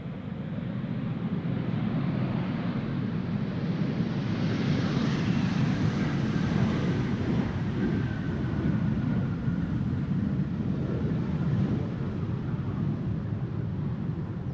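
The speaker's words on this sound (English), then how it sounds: "That 737 taking off." A Boeing 737 takes off at Schiphol Airport, a steady, broad jet roar that swells slightly in the middle and holds loud for the whole stretch, with some wind buffeting on the microphone.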